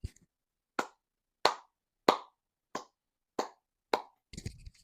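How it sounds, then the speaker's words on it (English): A lone person claps slowly and deliberately, seven sharp, evenly spaced claps heard close in a quiet room, followed by a brief murmur of voice. "Round of applause for me, man."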